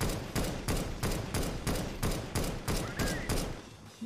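Rapid bursts of video game gunfire crack out in a steady repeating rhythm, about nine loud shots across a few seconds, close and forceful, with no talk over them.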